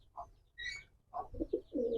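A pair of Giribaz racing pigeons coo nearby in a few short, soft phrases with brief gaps between them, clear and alone with no voices.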